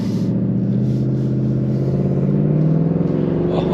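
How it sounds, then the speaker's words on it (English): A 2022 Ford Mustang Mach 1 with a 5.0 Coyote V8 accelerates from inside the cabin, a loud, deep, continuous engine rumble with a slowly climbing pitch. "Oh, that sounds so good."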